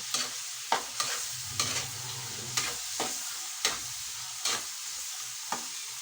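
Bagoong dish stirred in a frying pan: a series of sharp scrapes of a utensil against the pan, roughly one per second, over a soft sizzle, with no talking.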